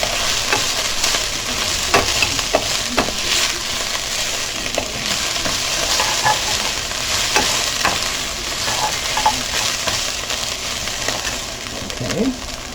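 Cauliflower rice sizzling steadily in a pan for keto cooking, with a continuous broadband fry hiss and frequent scrape-and-stir clicks throughout, close and loud, no talking.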